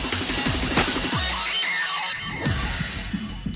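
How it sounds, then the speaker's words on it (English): An alarm in the I/O visual novel game going off as a series of rapid high electronic beeps in two bursts, heard over a dense game soundtrack with sweeping tones. "at that moment the Moon's Age's alarm goes off"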